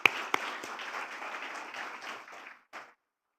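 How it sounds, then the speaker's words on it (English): Audience at a legal conference on arbitration and mediation applauds in a steady burst of clapping for about two and a half seconds, then fades with a brief final patter. "Let's give her a big round of applause."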